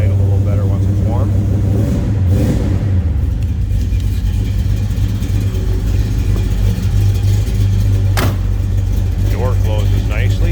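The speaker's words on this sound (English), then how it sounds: "We'll let this warm up just a tad here. The 383 will idle a little better once it's warm." A 1971 Chevrolet Chevelle Malibu convertible's 383 V8 idles while warming up, a loud steady low burble with a couple of light revs and a voice speaking over it.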